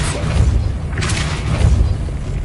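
A Depulso spell cast in Hogwarts Legacy, a dense rumbling boom with a whooshing burst in the middle, loud and continuous for a couple of seconds.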